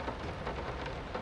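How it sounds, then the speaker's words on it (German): Heavy rain pattering loudly against nearby windows: a dense, steady wash of drops throughout the short stretch, close and unbroken, with no voices. "dass der Regen so laut prasselt, aber es ist nur, wenn ich in der Nähe von Fenstern bin"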